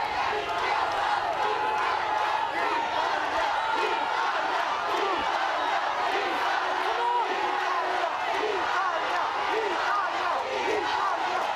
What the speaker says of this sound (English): Home crowd get behind their team as Ireland rob one from the Italians.